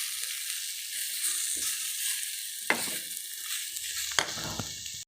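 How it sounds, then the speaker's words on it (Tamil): Masala with a little cumin powder frying in a pan on the stove, giving a steady close sizzling hiss broken by two sharp scraping knocks, with no talk. "மசாலா நல்லா நமக்கு ஃப்ரை ஆகிக்கிறது"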